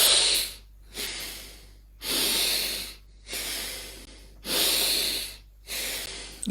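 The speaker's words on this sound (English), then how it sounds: "First, 3 breaths, and then we hold 1." Three deep, audible breaths in a breathing exercise, each a loud airy hiss lasting about a second, separated by short silent gaps, close to the microphone and alone.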